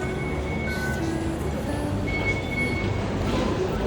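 A Hong Kong MTR subway train rumbles steadily along between Sham Shui Po and Lai Chi Kok, with a loud, continuous roar from inside the carriage and faint squealing tones from the wheels.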